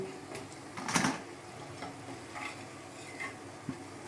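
Potato, capsicum and brinjal bajji fry in hot oil with a soft steady sizzle, punctuated by a sharp clatter of stirring early on and a few lighter knocks later.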